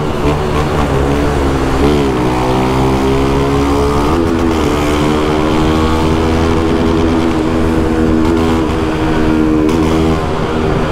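A Honda Fan 150 motorcycle engine while riding on a road trip to the beach, loud and close with a droning buzz that climbs in pitch through gear changes and wind rushing past the microphone.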